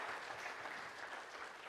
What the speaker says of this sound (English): Can we get a round of applause for our brave volunteers,